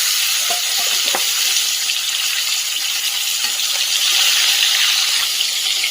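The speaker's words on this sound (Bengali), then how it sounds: "মাছগুলো এক পিঠ খুব ভালো করে ভাজা হয়ে গেছে।" Catla fish pieces fry in hot oil, giving a continuous close sizzle with faint crackles and small stirring clicks, with no talking.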